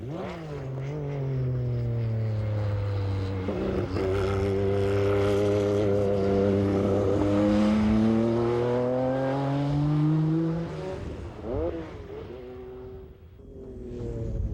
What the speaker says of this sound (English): This car sounds so foreign compared to a 35.